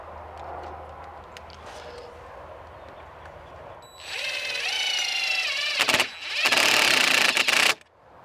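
A power drill drives 2.5-inch square drive screws into a Trex deck guard railing, with two loud whirring bursts that rise in pitch, the second starting after a brief pause.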